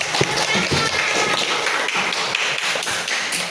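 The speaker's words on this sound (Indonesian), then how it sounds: "Tepuk tangan." A classroom group claps continuously for a few seconds, dense and steady, with voices mixed in underneath.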